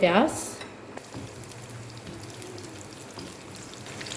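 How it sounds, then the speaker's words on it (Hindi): Medium onion frying in hot oil for a tadka for beef daal gosht, a brief high squeak at the start, then a low, continuous crackling sizzle with light stirring noises. "उसकी मैंने प्याज ली है, वो हमने ऑयल के अंदर डाल दिया"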